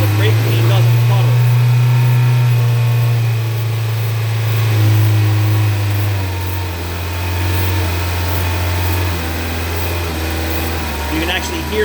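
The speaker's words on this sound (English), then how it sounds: "You can actually hear the idle change. More RPM." A car engine idles steadily at close range while brake cleaner is misted into the intake, its low hum shifting pitch up and down as the idle speed changes, with occasional faint hiss and some talk over it.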